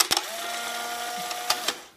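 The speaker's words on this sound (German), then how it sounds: "und dann feuert der Blitz." Polaroid Supercolor 635 CL instant camera firing its shutter and flash: a sharp click followed by a steady mechanical whirr lasting over a second, ending with two more clicks, close and clear.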